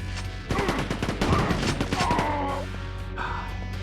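Rapid bursts of video game gunfire from a demo crackle in a dense volley for about two seconds, then thin out into scattered shots and a fading tail.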